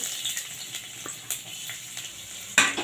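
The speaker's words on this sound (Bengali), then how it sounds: "রসুন আদাটাকে আমি হালকা করে ভেজে নেবো" Grated ginger and chopped garlic fry lightly in oil in a wok, a soft steady sizzle with occasional sharper scraping stirs, the last one loudest.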